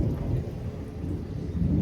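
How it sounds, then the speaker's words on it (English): Low rolling thunder rumbles steadily beneath a wash of rain during a storm, continuous and fairly soft, with no voices. "Exhale, hear the thunder and the plane."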